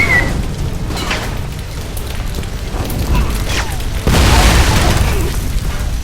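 Grenade blasts in the video game Alpha Protocol: dull, rumbling booms roll under a continuous loud wash of noise, with a stronger burst near the end.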